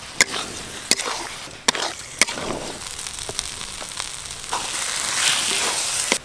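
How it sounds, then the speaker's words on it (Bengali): Potatoes fry in oil with spice paste in a pan, a continuous close sizzle broken by sharp clicks and scrapes as a spatula stirs them, with no speech. "মশলার সঙ্গে আলুগুলো বেশ ভালো করে কষে নিয়েছি, মশলা থেকে তেল ছেড়ে গেছে।"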